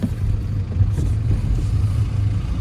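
Kia car with no bumper driving uphill in hilly terrain, a low steady engine rumble with a slight rise and fall, close and continuous, no talking.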